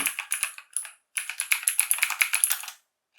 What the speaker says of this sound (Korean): 손가락이 자동으로 타이핑을 할 수 있게 됩니다